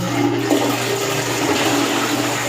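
A toilet flushes loudly, water rushing and swirling steadily throughout, close by with no voices.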